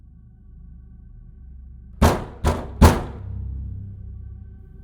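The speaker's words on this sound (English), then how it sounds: "One afternoon, Vanessa heard 3 knocks on their front door." Three sharp knocks land on a front door in quick succession, loud and close against a quiet room hum, with no talk.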